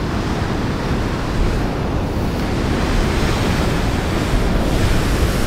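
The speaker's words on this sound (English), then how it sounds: "And the waves are still crashing in." Ocean waves crashing steadily onto a rough rocky coastline at a blowhole, a loud continuous roar of surf with wind buffeting the microphone.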